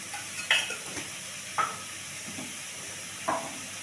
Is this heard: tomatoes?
yes